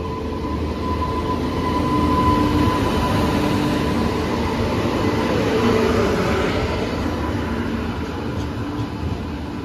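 A passenger train pulls into a railway station with a loud, continuous rumble and steady rolling clatter that swells slightly midway, with no voices over it.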